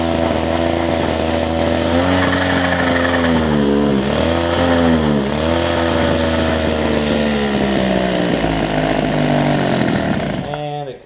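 A Homelite two-stroke hedge trimmer engine, just fitted with new fuel lines and a primer bulb, idles steadily and buzzes loud and close with small wavering dips in pitch, then cuts off abruptly at the end.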